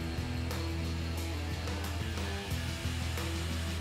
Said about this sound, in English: With a grinder, define the repair area.